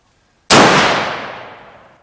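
A single muzzleloader rifle shot fired at night during a deer hunt, a sudden loud blast that rings out and decays over about a second and a half, standing alone without talk.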